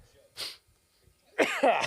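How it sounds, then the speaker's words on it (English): One person coughs nearby, a short hoarse burst followed a second later by a harsher, louder double cough, with near-silence between. "God, this cough, man, won't go away."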